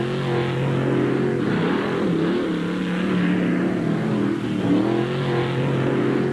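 A mud-racing vehicle at the starting line of dual mud pits before a grandstand in Rockford, Illinois, 1989: a loud, steady engine drone that rises and dips as the throttle is blipped, with no voices over it.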